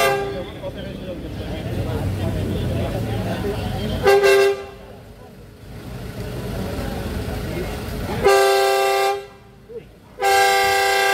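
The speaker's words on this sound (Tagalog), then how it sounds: "Yung naririnig nyo na bumubusina ng sunod-sunod habang ini-interview si Chief ay mga sasakyan po yun ng Diskaya." Several vehicle horns belonging to Diskaya's cars honk in repeated, sustained blasts, some long and loud, with engine and traffic rumble beneath and voices talking in the background.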